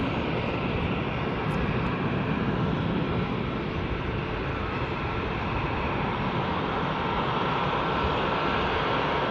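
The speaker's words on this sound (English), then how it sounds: "a Virgin Atlantic A330 to Atlanta is on the taxi out, just about to come past us here at the runway visitor park" A Virgin Atlantic A330 airliner taxis past the runway visitor park at Manchester Airport, its engines a broad, steady rumble and roar that holds loud and constant throughout.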